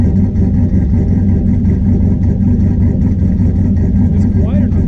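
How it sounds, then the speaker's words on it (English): The turbocharged engine of a C10 truck idles in a steady, heavy low rumble close by, with people talking over it. "let it settle into its idle"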